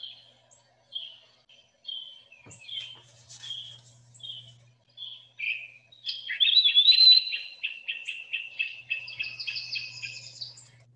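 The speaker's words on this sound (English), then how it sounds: "The first bird that went pee-a-wee, that's the eastern wood pee-wee. And the raucous noise is his cousin, the crested flycatcher." An eastern wood pewee gives slurred, whistled pee-a-wee phrases in Pine Barrens woodland, followed by a louder, raucous burst of rapid calls from a crested flycatcher; all are clear and fairly close, with faint insect buzz below.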